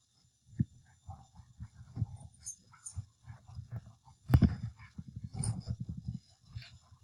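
A dog whimpers and gives low, muffled grumbling yelps nearby in a series of short repeated sounds, with one sharper bark midway and no voices.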